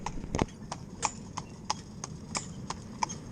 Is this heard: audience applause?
no